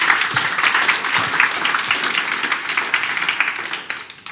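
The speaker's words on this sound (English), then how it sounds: "Give them a round of applause." Listeners at a public-speaking talk applaud: a lively round of many hands clapping close and fairly loud, with individual claps audible in the mix, tapering off slightly near the end.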